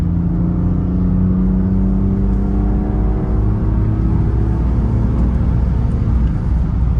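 Inside a 1995 BMW M3, the engine pulls hard under steady acceleration, a loud, smooth, continuous drone with rising harmonics and road rumble beneath.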